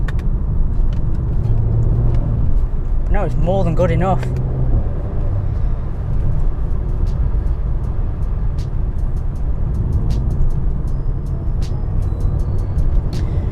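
A facelift Mercedes C43 AMG in Sport Plus mode drones steadily from inside the cabin, a continuous low engine and road rumble, with someone talking briefly partway through.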